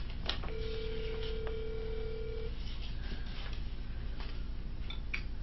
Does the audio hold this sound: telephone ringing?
yes